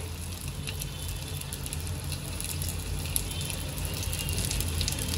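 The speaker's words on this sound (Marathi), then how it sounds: "आता तेलामध्ये चांगलं ह्यांना मी फ्राय करून घेते।" Stuffed bitter gourds frying in oil in a pan over a medium gas flame, a steady soft sizzle and patter continuing throughout at low level.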